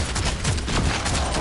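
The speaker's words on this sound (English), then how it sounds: "gonna shoot him now" Rapid gunfire bursts from the Warhammer 40k Deathwatch tactics video game, a brief, loud volley of overlapping shots.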